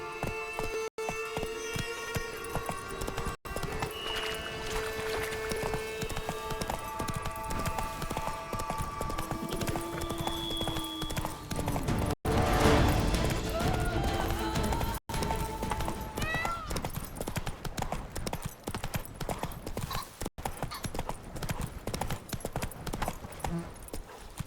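A horse gallops in The Witcher 3: Blood and Wine, its hooves keeping up a steady, rapid clip-clop throughout. A few whinnies and other game sounds are mixed in, and there is no clear talk.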